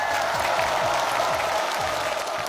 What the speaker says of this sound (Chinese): 请给他们最热烈的掌声和呐喊